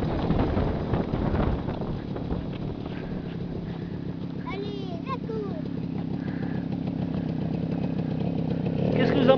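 A quad bike idles and putters in a steady, pulsing rumble close by under wind noise, while a person talks over it.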